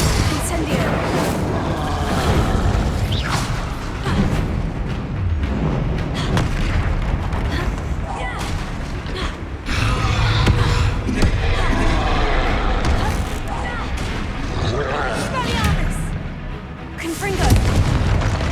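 Booming spell blasts and fiery explosions from Confringo and Incendio in Hogwarts Legacy on PS5, repeated loud impacts in a chaotic fight against a troll, with a voice shouting over the din.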